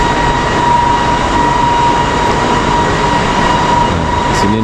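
A Kuala Lumpur MRT train rumbles steadily close by at Masjid Jamek station with a constant tonal whine, the broadband noise unbroken throughout.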